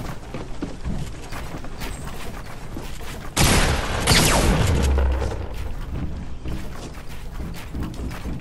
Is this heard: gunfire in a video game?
yes